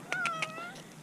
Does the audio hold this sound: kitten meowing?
yes